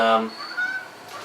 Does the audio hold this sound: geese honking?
yes